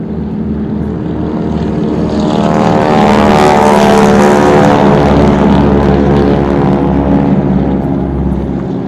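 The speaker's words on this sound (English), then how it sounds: "Listen to the sound of these last two aircraft." A propeller warbird at the Temora airshow drones past, its engine note swelling loudly toward the middle and then fading slightly as it passes, steady and alone without talk.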